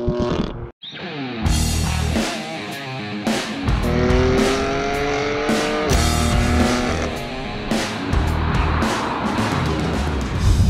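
A BMW M4 F80 with an inline six-cylinder engine is driven hard, revving up through rising pulls with quick gear changes and brief lifts, loud and close, with no voices.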